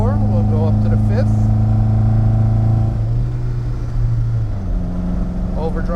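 A 1976 Jensen GT engine pulls steadily under acceleration, its loud droning note dropping at a gear change midway and then settling into a steady cruise, with a voice talking over it throughout.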